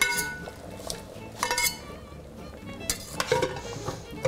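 Meat and its juices tumble into a boiling wild game stroganoff pot with mushrooms and onions, giving scattered clinks of a utensil against the pot and soft stirring, sizzling sounds close by, with bursts around the middle and end.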